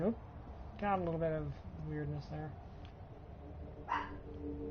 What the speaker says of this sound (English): that's our dog in the background